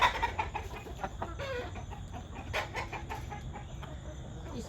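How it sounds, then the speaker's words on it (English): A flock of chickens clucks and squawks excitedly at morning feed, with overlapping bursts of calls at moderate distance and a few sharper cries rising over a busy farmyard background. "These chickens, they get rowdy in the mornings."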